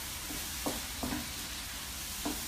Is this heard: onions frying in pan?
yes